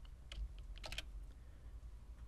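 Quick bursts of keystrokes on a computer keyboard as VBA code is entered, faint and close, with a short cluster of taps followed by quiet.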